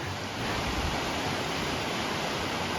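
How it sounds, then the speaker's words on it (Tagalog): A waterfall seen from a mountain-bike trail near Bass Lake pours as a steady, broad roar of rushing water, constant and fairly loud with no break throughout. "Waterfall."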